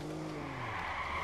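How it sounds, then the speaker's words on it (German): Cars accelerating hard and skidding during a chase in the Watch Dogs video game, a brief burst of tire squeal and engine roar that sounds close and loud, with no voices. "Die Teile, die Wagen hier beschleunigen, aber echt heftig, ey"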